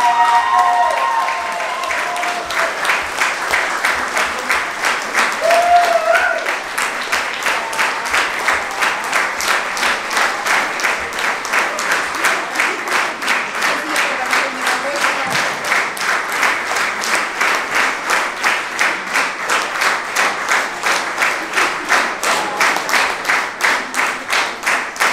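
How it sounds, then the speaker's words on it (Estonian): Sustained applause from a Christmas concert audience fills the hall for about 25 seconds, dense and steady with rhythmic clapping emerging toward the end, a few voices audible early on. "See suur aplaus on teile!"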